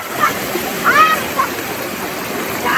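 Water flows and splashes at an outdoor swimming spot, a steady broad rush that carries on throughout, with brief voices or calls rising faintly above it now and then.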